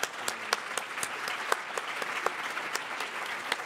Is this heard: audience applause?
yes